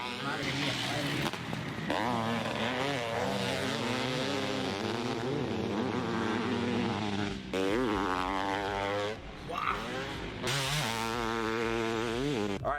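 A 1994 Honda CR500 and a 2000 Kawasaki KX500 two-stroke motocross bikes rev and run, their engines droning and rising in pitch up close, with a voice talking over them.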